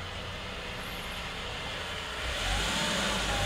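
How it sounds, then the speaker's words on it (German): A car pulls away at night, a low engine rumble at a distance that swells slightly toward the end, heard alone without talk. "So, da fährt das Auto wieder."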